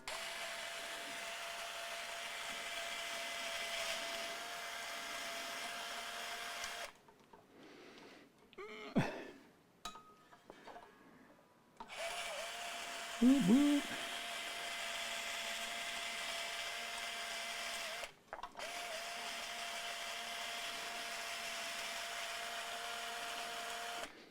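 A power driver undoes screws on guitar saddles in short whirring bursts separated by quiet pauses, with a steady hum running underneath.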